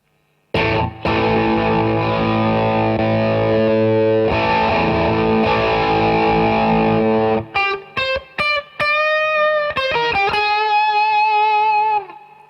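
Distorted electric guitar through a Roland Blues Cube Artist amp, long sustained chords ringing loudly, followed by a quick run of sharp, separate plucked notes.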